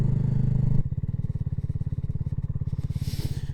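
A BSA Goldstar 650 motorcycle engine thrums loud and close, a steady drone that drops into a slower, pulsing idle after the first second, with a faint hiss near the end.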